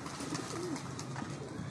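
Pigeons cooing on a pigeon club rooftop being repainted, giving soft, low coos under a constant wash of background noise.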